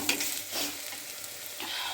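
Spices for a mushroom curry crackle and hiss in a hot pan while being stirred, a close, steady sizzle with soft scraping.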